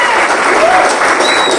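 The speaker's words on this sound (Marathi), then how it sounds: "जोरदार टाळ्या वाजल्या" Loud applause from an audience at a retirement felicitation ceremony for an Indian Army Bofors regiment soldier, a dense continuous roar of clapping with no gaps.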